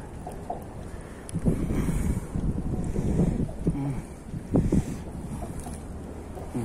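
Strong wind buffets the microphone on a wave-washed shore during mullet fishing, a steady rushing roar with gusty surges and low rumbles, and no talking.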